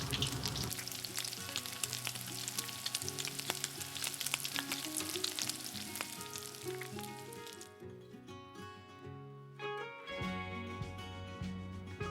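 Pig intestines deep frying in oil for a Hong Kong street snack, a loud continuous crackling sizzle with dense popping that thins out later, no voices heard.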